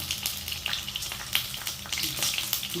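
Stuffed brinjal frying in oil in a pan, a steady crackling sizzle with small pops and spits running throughout at close range, no voices over it.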